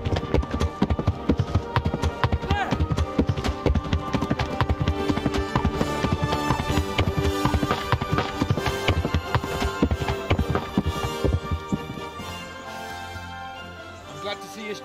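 Horse hooves clip-clop steadily at a quick, even rhythm in the medieval game Kingdom Come: Deliverance, loud and close over a bed of music, easing slightly softer near the end.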